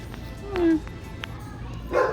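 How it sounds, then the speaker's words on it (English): Dogs bark and yip in the background, a few brief distant calls under a quiet room tone, with a person talking nearby. "Dogs are loud, huh?"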